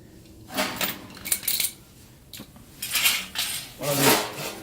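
A metal bread pan clatters and scrapes in several bursts, with clanking and rattling like cookware being handled close by, beside a dip box condenser coil.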